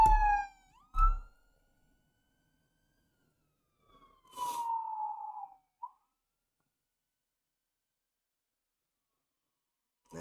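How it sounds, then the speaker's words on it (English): Emergency vehicle sirens pass by, with a few quick whoops and yelps at the start, then a longer descending wail about midway, separated by silence and ending with a brief clipped burst. "Got the sirens going by."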